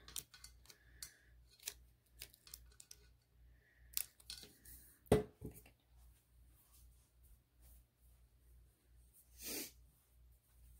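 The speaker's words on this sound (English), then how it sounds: "I'm gonna cut my tape a little shorter." Scissors snip through tape while wrapping a nutcracker-themed tumbler, with a few soft clicks and one sharp cut standing out over a low steady hum.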